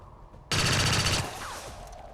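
Auto pistol gunfire in XCOM 2 bursts in suddenly as a loud, dense volley of rapid shots, holding for under a second before easing into a lingering, fainter rumble and echo.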